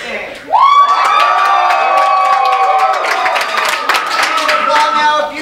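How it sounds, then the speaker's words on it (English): An improv show audience erupts into applause, cheering and whoops for a team, sudden loud onset followed by sustained clapping and shouting voices, children's yells mixed in, for about five seconds. "applaud now if you prefer the performance of Fruit Loops Nation this day."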